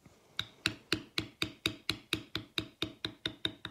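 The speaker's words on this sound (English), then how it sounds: "Notice as I'm beveling, I'm not fighting this bevel to get down in those corners or around there." A mallet strikes a leather tooling bevel at an even, rapid pace on an oak leaf and acorn wallet pattern, giving about a dozen sharp, close taps.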